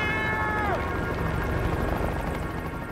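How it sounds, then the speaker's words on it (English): Helicopter rotor blades churn close by in a vast wilderness, a loud, continuous rhythmic beating that fills the scene, with a brief high cry over it near the start. "The sound of rotor blades is tantalizingly close."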